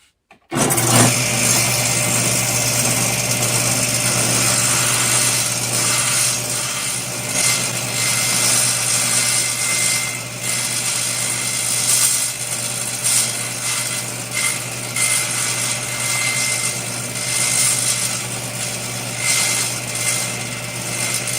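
A table saw cuts through wood in one long, steady, loud run that holds a constant whine with a faint rasping texture throughout, and no voices are heard.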